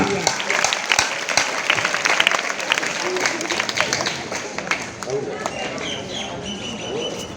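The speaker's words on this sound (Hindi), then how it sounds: "एक बार सभी मेरे साथ दोबारा सर के लिए जोरदार तालियां" Applause from a school crowd for a teacher at an Independence Day event in a government senior secondary school, sustained clapping with some crowd noise and a few sharp transients throughout.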